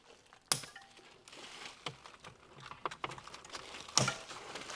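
Cutters snip the cable ties holding the mudguards during assembly of a Sobowo electric trike. Two sharp, close snaps come about three seconds apart, with small clicks and handling rustle between them.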